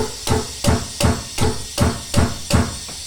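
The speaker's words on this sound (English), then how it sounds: "And then give it a few whacks" Eight evenly spaced hammer whacks strike a valve spring retainer to seat the keepers during a rocker and valve spring change. Each blow is a sharp, loud, close metallic knock with nothing else heard between them.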